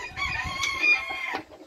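A gallino gamecock rooster crows once, loud and close, a sustained harmonic call trailing off near the end.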